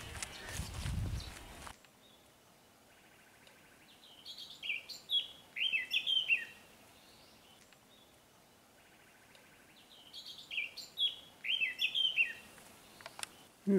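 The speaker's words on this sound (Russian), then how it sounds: "птички поют, просто хор необыкновенный" Small birds sing in a forest in Kuban in early summer, bright chirps and trilling phrases arriving in two clustered bursts, moderately near against a quiet background, after a short rumbling handling noise at the start.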